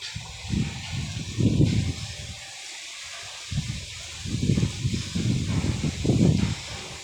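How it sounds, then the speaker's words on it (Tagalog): Strong wind buffets a nearby microphone in rumbling gusts that rise and fall, with a brief lull midway. "Grabe lakas ng hangin"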